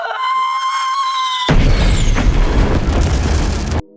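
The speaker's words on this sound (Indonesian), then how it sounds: "Mereka langsung meluncurkan kembang api" A sustained high tone gives way to a loud burst of booming, crackling firework explosions in a film, rumbling for a couple of seconds, then cutting off abruptly.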